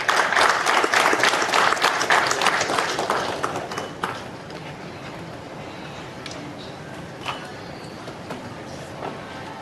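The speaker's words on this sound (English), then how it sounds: "Please welcome him with a round of applause." Audience applause at a hackathon event, loud dense clapping for the first four seconds, then fading into quieter scattered claps and room murmur.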